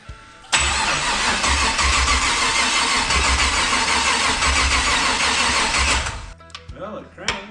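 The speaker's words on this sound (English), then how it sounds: "Well, it cranks." A rat rod wrecker's newly installed engine cranks steadily for several seconds without catching, a loud, continuous starter churn that cuts off abruptly, followed by brief clanks and voices talking nearby.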